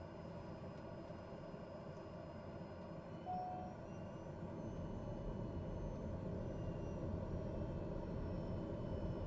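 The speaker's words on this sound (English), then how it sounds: "let's move to flight idle" A TBM930 turboprop in Microsoft Flight Simulator 2020 drones at flight idle, a quiet steady engine rumble with a faint whine that swells slightly partway through, with no voices.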